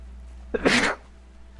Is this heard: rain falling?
no